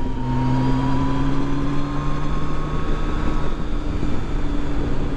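A Yamaha FJR1300 motorcycle pulls in third gear, a smooth steady engine tone slowly rising in pitch, heard alongside continuous wind rush.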